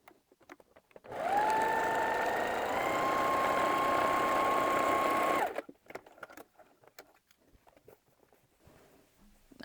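A sewing machine quilting a patchwork side runs in one continuous burst of about four seconds, a close, steady whirring hum with a tonal motor whine, preceded and followed by quiet light handling noises.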